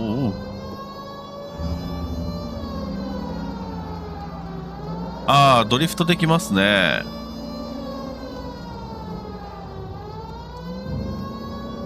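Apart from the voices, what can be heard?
police car siren passing in the video game L.A. Noire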